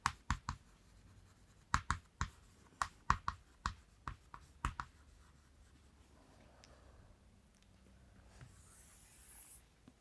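A hand writes out electron configurations for atoms, giving a series of sharp taps and short scratches from pen on paper in uneven strokes, followed by softer rubbing and a faint hiss toward the end.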